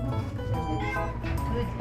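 A cat meows repeatedly at a place in the Philippines, the cries mixing with people talking nearby in a busy, close-up setting.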